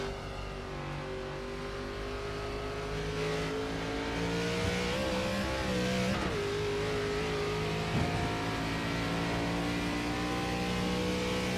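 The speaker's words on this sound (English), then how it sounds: "Second gear about the lowest the drivers will go just to keep themselves with high revs. Keep that engine pumping at about 100 miles an hour." Race car engines screaming at high revs during the Atlantic Grand Prix, a continuous loud drone with rising and falling pitch as gears change, close and unbroken throughout.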